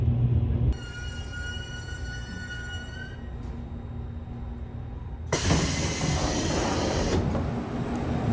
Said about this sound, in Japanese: 列車は定刻で宮崎空港を発車。